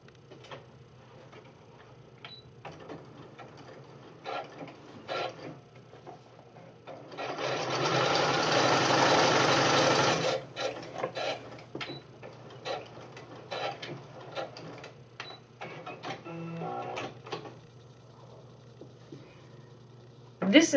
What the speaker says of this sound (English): Fold that over about 1 inch and sew it across.